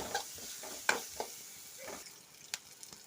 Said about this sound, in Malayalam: പച്ചമുളക് ഇട്ട് കൊടുക്കാം ഇനി നന്നായിട്ട് ഇളക്കി കൊടുക്കാം